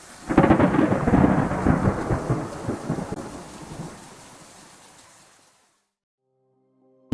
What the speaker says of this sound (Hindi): अब आगे कुछ दिनों बाद जंगल में भयानक तूफान आया।